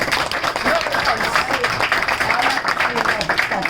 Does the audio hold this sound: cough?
no